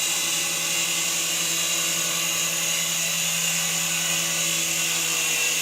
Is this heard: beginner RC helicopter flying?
yes